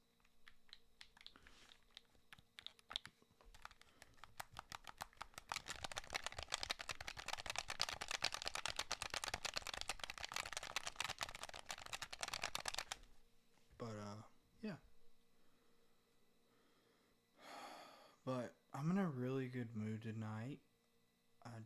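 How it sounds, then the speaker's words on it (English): Rapid soft clicking of PS5 controller buttons pressed in a dense, continuous flurry, followed by a few brief bursts of speech. "square, triangle, circle, and X buttons are really quiet on this controller"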